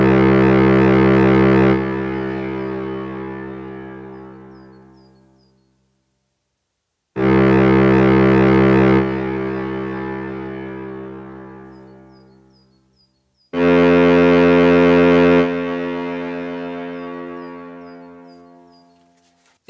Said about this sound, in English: Dry, wet foghorn.